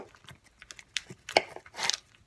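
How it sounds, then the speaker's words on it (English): A knife chops sausage into small pieces on a board, a few irregular, close, crisp cuts and taps with short pauses between them, with no talk. "Basically, cut them up in small pieces."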